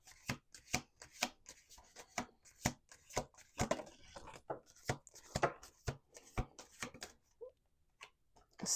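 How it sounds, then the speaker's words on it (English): A deck of playing cards is riffled and bridged during a tarot-style reading: a run of sharp, rapid card slaps and ruffles in quick bursts, close and fairly quiet, with no talking. "Last shuffle."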